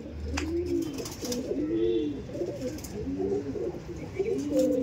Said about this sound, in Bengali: একদম অরিজিনাল লাইনের পেট ফাটা লাইনের পায়রা